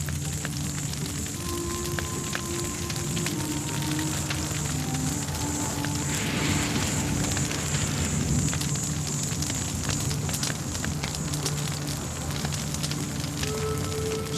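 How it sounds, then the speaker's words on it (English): Grass fire burning across drought-parched, tinder-dry Serengeti plains, a steady broadband crackle and roar holding at even loudness throughout with a few faint steady tones underneath. "Grass fires sweep the Serengeti."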